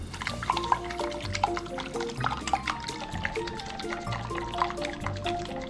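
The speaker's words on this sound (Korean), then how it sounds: "계란 6개를 준비하고 거품기로 열심히 저어 계란을 풀어주세요" Six eggs are beaten hard with a whisk in a bowl, making a fast, steady run of close ticking strokes over background music. No one speaks.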